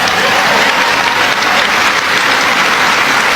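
A large crowd at a Bernie Sanders rally in Iowa claps loudly and continuously, a dense, unbroken wash of applause filling the space from start to finish.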